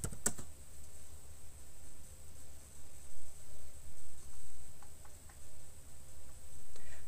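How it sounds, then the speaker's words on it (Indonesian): Typing a web address on a computer keyboard, a steady run of quiet, close key clicks over faint background hiss. "Selanjutnya, pada address bar, kita ketik alamat"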